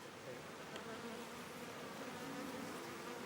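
Bees buzz around beekeeping hives in the Panjshir Valley, a soft, dense swarm hum with individual insects droning past, quiet and continuous with no talk.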